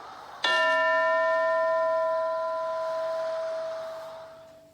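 A classroom bell is struck once, giving a bright metallic clang with a long, ringing tone that slowly fades over several seconds, loud and alone with no voices.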